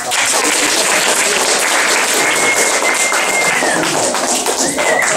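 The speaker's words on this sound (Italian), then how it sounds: "un applauso" A school audience at an environmental awareness meeting gives loud, dense applause, a continuous patter of many hands that stays steady for about five seconds.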